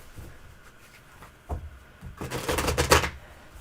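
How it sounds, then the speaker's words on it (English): Tarot cards being shuffled, a few soft taps and flicks followed by a louder, rapid clattering riffle near the end, close and without talk. "Oh, okay, so I'm then shuffling."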